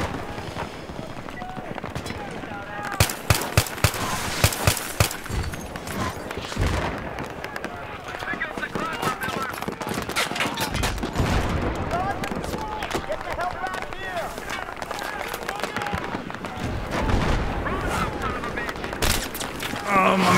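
In Battlefield 3, combat rages on: rapid bursts of gunfire crackle close by over a dense roar of battle noise, with louder rattling volleys early on and a constant chaotic din throughout, voices faintly mixed in.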